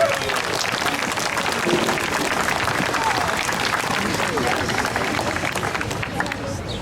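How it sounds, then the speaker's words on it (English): Steady, dense applause from an outdoor crowd at a Memorial Day parade ceremony, loud and continuous for several seconds with a faint murmur of voices underneath. "Big round of applause for all of them."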